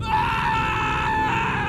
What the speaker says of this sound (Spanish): vino un grito terrible, el grito de un hombre